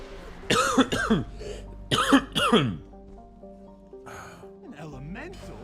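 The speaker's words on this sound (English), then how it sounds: "Still coughing a lot." Several harsh, congested coughs and throat clearing from a man live-streaming World of Warcraft gameplay, coming in two close bursts near the mic, followed by quieter throat noises and faint game sounds.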